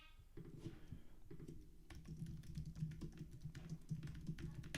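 Code is typed on a computer keyboard, with a quiet, rapid patter of key taps running continuously and faintly at close range.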